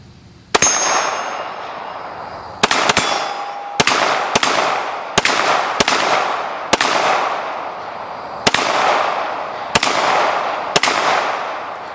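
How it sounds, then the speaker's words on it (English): Sharp pistol shots from a Canik SFX Rival, about eleven loud reports spaced irregularly, some in quick pairs, each with a short ringing decay, fired outdoors with no talking. "I shot those rounds using the LED sight"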